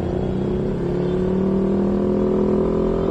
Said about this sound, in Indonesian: Saya menjalankan mobil yang salah satu yang paling bersejarah di Indonesia